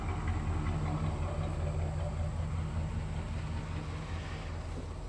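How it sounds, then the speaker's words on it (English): A 1970 Chevrolet Caprice with a 454 V8 idles with a deep, steady exhaust burble, a low continuous rumble heard close and unbroken. "Listen to that burble. Don't need a radio in these cars. Just listen to the exhaust."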